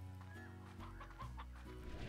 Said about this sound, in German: Hier spawnen wir ganz viele Hühner.